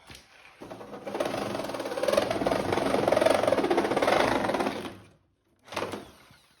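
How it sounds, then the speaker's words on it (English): A Sawzall reciprocating saw cutting a hole through a bus body, with a steady buzzing rasp that holds for several seconds, stops, then starts again briefly, loud and close with no talking. "So we'll get these last two cuts made here, then we'll clean up this crazy bow. Sawzall for the win."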